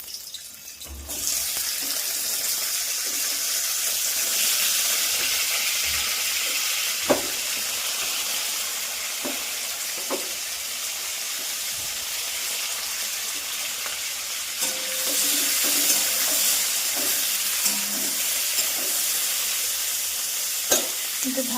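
Sliced flat beans and potatoes fry in oil in a wok over raised heat, giving a steady, close broadband hiss and sizzle throughout, with a few sharp clicks and a brief louder swell partway through.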